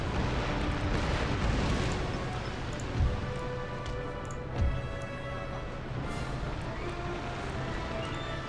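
Naval cannon fire from ships in Empire Total War, a continuous roll of rumbling booms with two heavier thuds standing out, set against dense battle noise, with someone talking over it.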